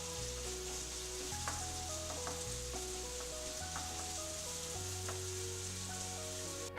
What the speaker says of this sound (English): we want to cook down the sausage just a little bit more and incorporate everything.